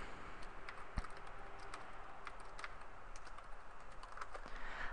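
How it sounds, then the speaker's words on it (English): Quiet typing on a computer keyboard while entering text in Excel, a loose patter of light key clicks with one sharper tap, faint and close over a low background hiss. "and I just type."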